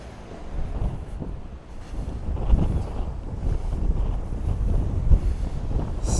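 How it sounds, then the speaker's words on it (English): Strong wind on outdoor stairs in Tokyo roars and buffets the microphone steadily throughout, a loud rushing gust noise with no voices. "Crazy windy here now."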